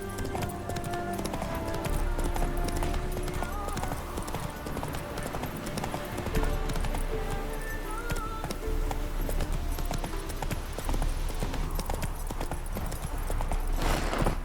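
Horse hooves clip-clop steadily in The Witcher 3, a continuous rhythmic trotting near and fairly loud, with ambient game sounds and brief voices around it.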